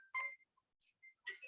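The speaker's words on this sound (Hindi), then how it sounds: "आकाश जी का फोन आ रहा है, एक मिनट होल्ड कीजिए" Incoming call on a phone: short electronic ringtone bursts, two louder chirps separated by a quieter blip, clear and close with no voices.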